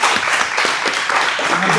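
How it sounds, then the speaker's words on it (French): A small group of young men claps and cheers for a candidate in a studio challenge show, brisk, close and fairly loud for a couple of seconds with some voices mixed in. "On peut l'applaudir, les gars."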